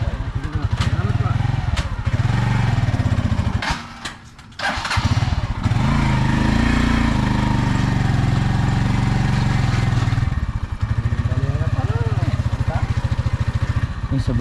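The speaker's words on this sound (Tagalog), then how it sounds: "Ilagay nyo lang yung motor nyo dyan." A parked motorcycle engine idles loudly and close with a steady throbbing rumble, dipping briefly before picking back up, while people talk nearby over it.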